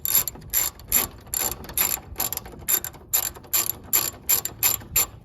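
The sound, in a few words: ratchet removing radiator fan bolt on 2013 Chevy Tahoe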